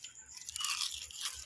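Crispy fried kangkong chips crunch faintly between the teeth, a soft, brittle crackle of chewing heard up close with no talking.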